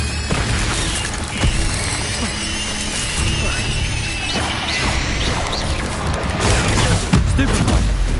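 Fire spell blasts and combat impacts in Hogwarts Legacy, a busy run of crashes, whooshes and sharp thuds landing in quick succession over a dense, loud game soundtrack.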